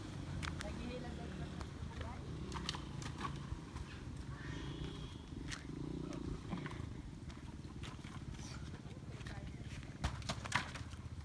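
Carabao hooves plodding on a rural farm in the Philippines, a steady muffled clip-clop with scattered sharp knocks, heard alongside low rumbling background noise and people talking nearby.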